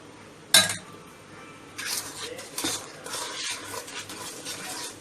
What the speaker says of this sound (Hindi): देखिए ऐसा कर रही मैं, अंडा शक्कर पहले अच्छा फेंटने का, मिक्स करने का